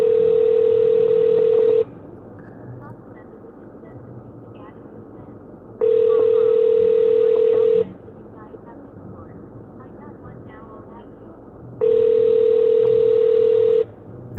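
Ringback tone of an outgoing phone call: three steady two-second tones, each followed by about four seconds of quiet with a low background hum, in a regular repeating cadence.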